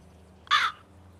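A single loud crow caw close by, one harsh burst standing alone over a quiet background hum.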